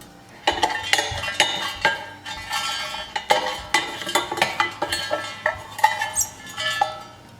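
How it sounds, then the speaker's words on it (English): A utensil stirring spices in a pan while cooking a Sri Lankan curry, producing repeated close metallic scrapes and clinks in an irregular rhythm, with no talking. "Keep stirring so our ingredients don't burn."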